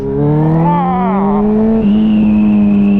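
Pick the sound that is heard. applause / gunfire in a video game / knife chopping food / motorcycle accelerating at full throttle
motorcycle accelerating at full throttle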